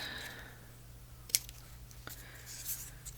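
Scissors snip a small angled cut into paper while crafting Christmas tag journals, a single sharp near snip rising briefly above a quiet room hum, followed by a fainter click.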